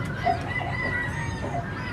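Lakenvelder chickens and roosters in a farm coop give soft, brief clucking and crowing calls over a steady background murmur, close but not loud.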